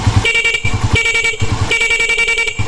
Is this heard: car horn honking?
yes